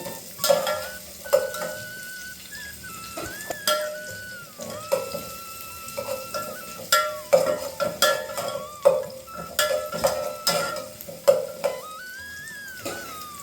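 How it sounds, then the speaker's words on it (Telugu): Shredded cabbage, carrot and grated ginger fry in a pan for schezwan Maggi noodles, a soft sizzle under frequent clattering scrapes of a spoon against the pan, with no talking. "క్యాబేజీ, క్యారెట్ ఇది కొంచెం ఫ్రై అవ్వాలి."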